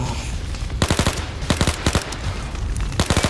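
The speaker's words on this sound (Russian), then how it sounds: "Мне не нравится вообще, как эта пушка стреляет." Gunfire in the video game Overkill's The Walking Dead, several sharp bursts of rapid automatic shots, loud and close, separated by short gaps over a steady background rumble.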